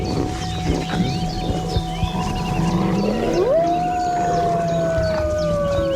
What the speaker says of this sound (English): The pack maintains discipline by barking, growling, and howling, which reduce the need for open conflict.